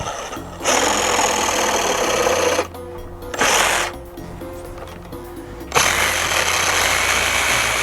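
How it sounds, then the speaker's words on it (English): A Sawzall reciprocating saw cuts through an old, storm-damaged wooden fence gate in three loud, rough buzzing bursts: a long one, a short one, then another long run, with quieter gaps between. "So I think I'm just gonna sawzall it off."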